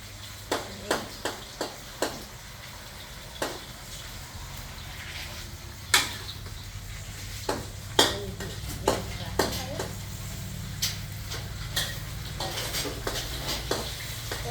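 Garlic stir-frying in a hot pan for vegetarian pad see ew, a steady sizzle under sharp metallic taps and scrapes of a spatula, with a voice talking over the cooking.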